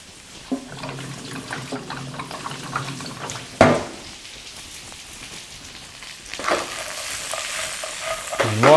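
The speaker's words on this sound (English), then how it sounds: "Give it a good stir, making sure you get plenty of oil around there." Rice noodles and tofu stir-fried in oil in a pan, with soft sizzling and intermittent scraping stirs, a sharp clack midway and louder frying toward the end.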